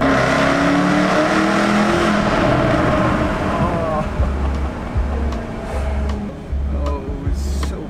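A Jaguar F-Type SVR accelerates hard through a tunnel, its engine roaring loudly and echoing, rising in pitch through the gears, then dropping into a burbling, crackling exhaust note as it eases off.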